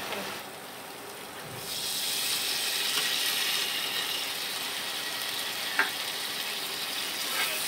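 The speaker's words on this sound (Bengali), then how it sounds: "এখন এর ভিতরে চিংড়ি মাছ দিব।" Prawns hit hot spiced curry paste of chili, salt and turmeric in a pan on an electric stove. A quiet hiss swells into a steady, bright sizzle that continues, with a few small clicks and no talking.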